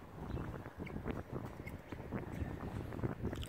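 Wind gusting outdoors on a cold, windy December day during racing pigeon training, a steady broadband rushing and buffeting across the microphone with no speech.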